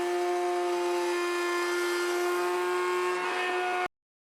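A router whines steadily at high pitch while cutting a shadow line along the edge of a wooden sewing organisation box, close and loud for several seconds before stopping abruptly.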